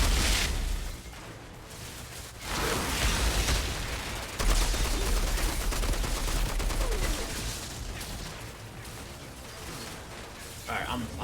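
Gunfire and explosive bursts from the shooter video game Outriders, dense and continuous at high loudness, with a louder surge partway through and some talking mixed under the battle noise.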